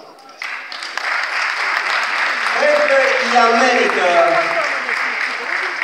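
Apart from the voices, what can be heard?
audience applause at a festival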